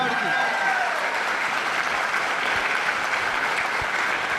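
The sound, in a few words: audience applause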